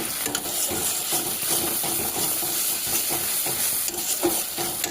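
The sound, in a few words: spice masala being stirred and sautéed in a pan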